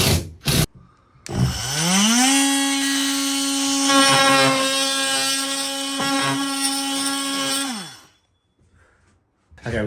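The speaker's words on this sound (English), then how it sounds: "put up the screws every 6 inches" Power driver sinking a screw into a ceiling during a pub building job, a steady motor whine ramping up then holding for about six seconds before winding down, close, with a few knocks around it.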